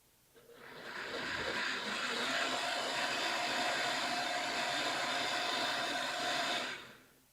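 Food processor pureeing leeks at low speed, a steady whirring motor hum that starts, runs evenly for several seconds and stops, heard alone at moderate distance.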